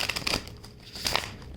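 Tarot cards being shuffled, two short papery riffling bursts, close and fairly soft.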